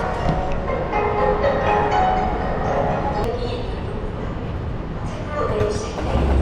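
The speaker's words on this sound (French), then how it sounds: "Je crois que le métro arrive." A subway train rumbles into a station in Seoul with a steady, loud roar and metallic rail noise, a few voices faintly audible under it.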